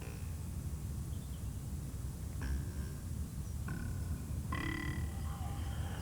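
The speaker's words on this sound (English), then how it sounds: "There are many types of frog in different parts of the world." Several frog croaks sound over a constant hiss of background noise, a few short calls spaced a second or so apart at moderate distance.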